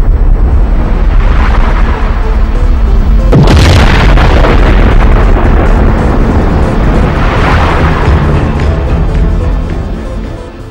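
Exploding stars rendered as a cinematic sound effect, a deep rumbling roar that swells and surges with a sharp booming burst partway through, loud and sustained before fading out at the end.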